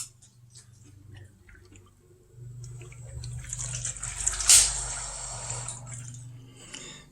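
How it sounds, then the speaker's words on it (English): Water feeds into a PC hard-loop water cooling system in a 16-core AMD build with a Thermaltake Level 20 HT case, with faint trickling and dripping that grows into a brief louder gush, then a low pump hum. "And we've got water starting to feed in here."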